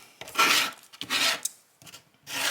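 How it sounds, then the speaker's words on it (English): A small scraper dragged over a Cricut cutting mat to strip off degreaser, heard as three close, raspy scrapes separated by short pauses. "just take my little scraper, and I'm basically just kind of removing that degreaser and scraping it off"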